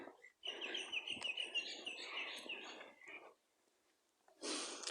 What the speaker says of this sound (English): I think that's a crow. Oh no, it's a magpie.